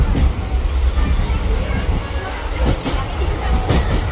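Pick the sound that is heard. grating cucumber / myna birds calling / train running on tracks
train running on tracks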